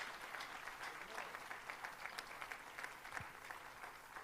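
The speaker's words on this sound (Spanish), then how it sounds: "Demos una ofrenda, hermano, de palmas, pero así vigorosa al Señor." A church congregation at a pastors' retreat claps vigorously as an offering of praise, a fast, continuous patter of many hands, steady and fairly distant, with no voices standing out.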